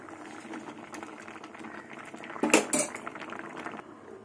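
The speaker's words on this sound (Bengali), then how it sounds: "কড়াই বসিয়ে দিয়েছি।" A wok set down on a kitchen stove while cooking mung dal, with metallic clatter and clinks of pots and utensils over a low bubbling background, peaking in a sharp burst midway.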